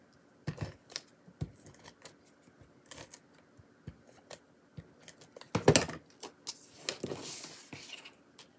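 Scissors snipping through card stock during paper crafting of a pop-up card, a few sparse quiet cuts and handling clicks with a louder rustling cut burst midway, no talking.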